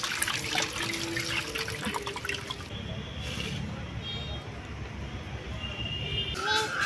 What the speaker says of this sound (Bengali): ওপর থেকে ঠান্ডা জল দিয়ে দিলাম।